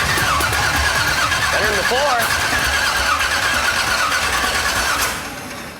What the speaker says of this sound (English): Try to fire it up, dude.